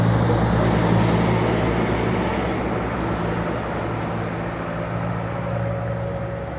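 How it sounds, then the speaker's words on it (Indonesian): A Putra Remaja bus rolls into the Sebapo toll gate near Jambi, a continuous low engine drone with road rumble that stays loud and steady throughout, a faint whine sweeping up early on. "ada bus Putra Remaja ya yang baru masuk Jambi nih"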